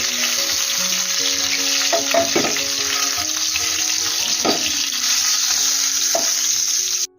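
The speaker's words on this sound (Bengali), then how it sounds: "মাছের মাথাটা আমি ভাজা করে নিয়েছি" Hilsa fish head frying in hot mustard oil in a kadai, a steady close sizzle running throughout with a few clinks of utensil against the pan, no talking.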